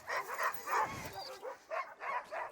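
Sled dogs kept by a musher in the Canadian far north bark and yip at feeding time, a burst of excited, fairly close barks with short pauses between and light talk mixed in.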